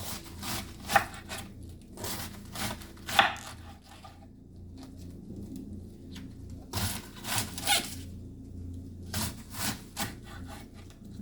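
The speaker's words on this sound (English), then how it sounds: "Then I keep chopping. Like I said, I always chop it down to the core of the cabbage." A knife chops cabbage on a cutting board in a home kitchen, cutting down toward the core, with repeated crisp strokes in irregular bursts and pauses, close and alone.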